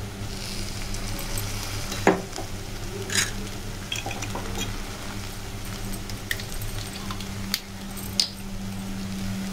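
Egg noodles stir-fried in a pan after vinegar goes in, a steady low sizzle with occasional scraping clicks and taps of a utensil, close and continuous without talk.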